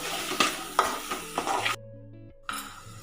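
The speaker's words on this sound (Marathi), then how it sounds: "चांगलं परतून घ्यायचं आहे" Malvani garam masala and cumin powder being sautéed in a pan for prawn curry: a steady close sizzle with scraping stirs, a near-silent pause partway through, then the sizzle returns.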